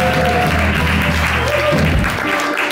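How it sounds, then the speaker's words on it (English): An audience at Sweetwater Music Hall in Mill Valley applauds loudly and steadily for nearly three seconds, with sustained tones from the band ringing underneath before the clapping thins out. "let's just give him a big round of applause"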